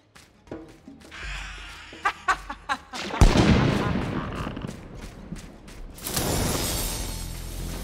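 A run of booming cannon shots from dwarf cannons fires in quick succession in the PC video game The Darkest Tales, followed by a heavy explosive rumble and a rushing roar, with a voice briefly heard.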